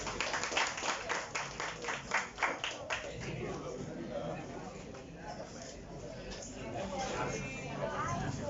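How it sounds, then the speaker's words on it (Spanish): Audience applause at a literary discussion event for a literary magazine, starting as a burst of distinct claps for the first few seconds, then thinning into a murmur of crowd noise and voices. "Por favor, un aplauso para Alejandro."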